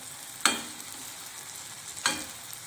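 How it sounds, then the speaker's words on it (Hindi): Gulgula fritters frying in hot oil, a steady close sizzle broken by two sharp clatters as the fritters are turned over. "इनको दोनों तरफ से उलट पुलट के अच्छी तरह से सेक लेंगे"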